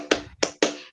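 Three quick, sharp hand claps ring out close and clear in a school counseling classroom session, the last two sounding almost together.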